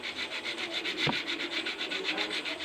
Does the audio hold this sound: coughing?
no